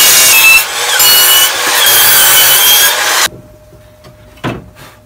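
A saw rips through a sheet of 3/4 inch plywood with a loud, close cutting roar for about three seconds, then cuts off abruptly, leaving quiet with a brief knock of wood afterward.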